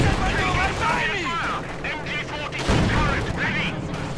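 Tank cannon and mortar fire from a Company of Heroes 2 battle between a Panzer IV and a T-34 booms repeatedly under continuous commentary, with a heavier blast about midway.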